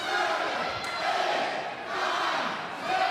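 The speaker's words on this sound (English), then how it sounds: "The crowd counting in unison." A live wrestling arena crowd chants a count in unison, a loud, distant-sounding swell of many voices rising and falling in rhythmic waves.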